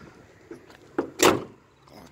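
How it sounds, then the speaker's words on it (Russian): A 2015 Mercedes Sprinter 316 van door swinging shut onto its magnetic catch gives a single muffled thud. Softer knocks come just before it. No voices are heard. "хорошо двери закрываются на магнитах"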